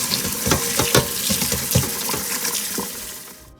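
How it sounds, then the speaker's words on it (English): Shrimp get a final rinse under a running tap in a kitchen sink, with water splashing steadily and irregular clatters and knocks as the shrimp are handled, fading out at the end. "Next, we're going to give the shrimp one last rinse."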